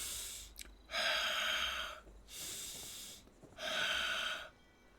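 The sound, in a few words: heavy breathing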